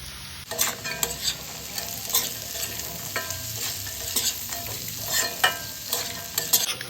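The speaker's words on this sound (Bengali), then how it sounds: "এবার সব কিছু ফ্রাই করে ভালো করে মিশিয়ে নিয়েছি" Fried peanuts and sago are stirred together in a hot pan, giving a steady sizzle with frequent scraping and knocking strokes of a spatula, close up and with no voices.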